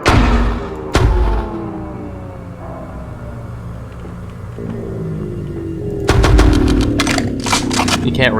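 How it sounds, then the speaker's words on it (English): Video game gunfire on an empty capture-the-flag server: a couple of heavy booming shots at the start, a long rumbling ambient stretch, then a fast rattling automatic burst emptying the magazine near the end, with talk mixed in. "I shot all the bullets in case anyone was wondering."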